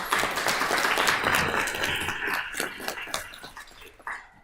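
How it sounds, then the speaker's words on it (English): Applause at a girls club career luncheon, a roomful of clapping that is strongest at first, then thins into scattered individual claps as it fades out, with faint murmuring voices. "So let's give them a hand of applause."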